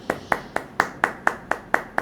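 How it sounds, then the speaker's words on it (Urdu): Hands clap alone in a steady, even rhythm, about nine crisp claps in two seconds, close and fairly loud, during a pendulum dowsing class. "تالیاں بجائیں بھائی"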